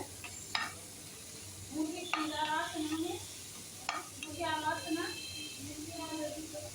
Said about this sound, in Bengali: আমি শাকটাকে শাকের মধ্যে কোনো প্রকার পানি দিয়ে নিয়ে তেলের উপরে ভাজবো